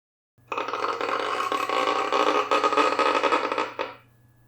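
A bowed violin makes a rough, grinding creak that holds steady for a few seconds, mimicking a heavy door slowly swinging open, then cuts off.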